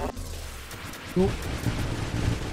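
Enemy ships in the space shooter Nova Drift open fire, a rumble of repeated muffled booms and thuds under electronic game sounds, with a voice talking over it.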